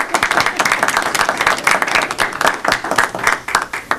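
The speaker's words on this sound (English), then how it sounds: "A round of applause for Audrey." Lively applause for Audrey at a Scituate Council on Aging meeting, a small room of people clapping close and loud in quick irregular bursts that continue throughout.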